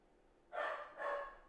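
Two quick barks from a dog sound at moderate distance indoors, fairly faint against a quiet background.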